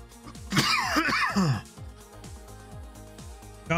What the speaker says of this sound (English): I'm getting a lot of coughs right now.